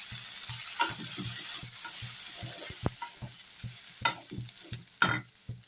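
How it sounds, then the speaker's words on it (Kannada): Dal saaru spice powder dry-frying in a pan over a low flame is stirred with a steady, rhythmic scraping, set against a soft continuous sizzle and a few sharper clinks near the end. "ಸಣ್ಣ ಉರಿಲಿ 1-2 ನಿಮಿಷ ಈ ಥರ ಫ್ರೈ ಮಿಕ್ಸ್ ಮಾಡೋಣ."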